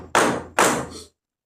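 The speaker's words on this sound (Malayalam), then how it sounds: "നല്ലപോലെ അടിച്ച് ചിളക്കി വേണം നമുക്ക് പരത്താൻ" A hammer strikes a soda bottle cap flat with two solid, close metallic thuds about half a second apart, each ringing off briefly before silence.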